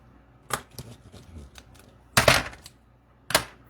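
Paper is trimmed for a one-photo scrapbook page, with a few sharp, close snips and clicks of a cutter in separate bursts over quiet handling noise.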